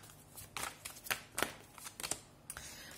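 Tarot cards shuffled by hand in several quick riffling bursts, crisp papery flutters separated by short pauses, close and fairly quiet with no talking.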